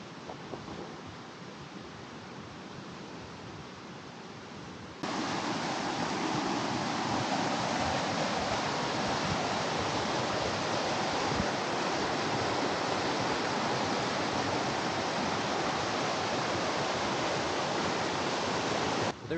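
North Fork Umatilla River rushes past a backcountry campsite, a steady broadband roar of flowing water heard from a short distance, constant throughout with no voices over it.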